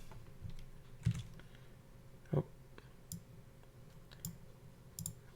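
Scattered keystrokes as a password is typed on a computer keyboard: a handful of soft, separate clicks with a few sharper taps, quiet and close, with no talking.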